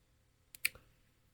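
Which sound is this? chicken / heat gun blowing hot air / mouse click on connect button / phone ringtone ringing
mouse click on connect button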